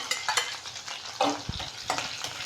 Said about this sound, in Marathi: भाजून घेऊ थोडं दोन मिनटं लसूण मिरची थोडीशी भाजली की